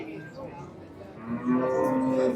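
A cow at the Qarshi livestock market in Kashkadarya gives a single fairly close moo in the second half, following a low, murmuring background.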